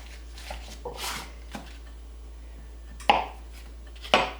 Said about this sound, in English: we're going to cut this up into basically pats of butter